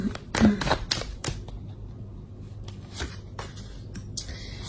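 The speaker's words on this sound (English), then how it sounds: "Let's draw out 4 more cards." Tarot cards are drawn from a deck one after another, producing close, crisp card flicks and slides in quick bursts, with quiet gaps between the draws.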